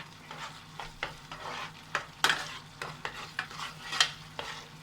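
Chilli chicken gravy bubbling in a pan, with repeated sharp stirring scrapes and spoon taps over a steady low simmer and sizzle, close by with no talking.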